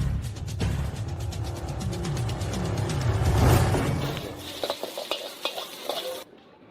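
Fried rice (nasi goreng) being stir-fried in a pan, with a steady loud sizzle and scraping of a utensil that breaks into a few irregular clanks near the end, then stops.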